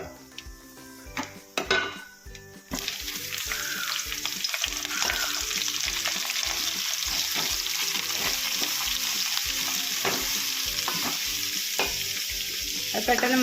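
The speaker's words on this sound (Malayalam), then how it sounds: "ഈ തേങ്ങാക്കൊത്ത് ചെറുതായിട്ടൊന്ന് മൂത്ത് വരുമ്പോൾ ഉള്ളി സവാള അരിഞ്ഞതിട്ട് കൊടുക്കാം." Chopped onions and small coconut pieces fry in a pan for a beef curry, giving a loud, steady sizzle with frequent clinks and scrapes of a spoon stirring against the metal.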